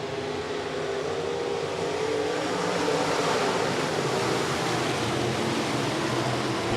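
USRA B-Modified dirt race cars take the green flag at Rapid Speedway and accelerate as a pack, making a dense, loud, sustained engine roar that blends into a broad rushing wash with no clear individual cars.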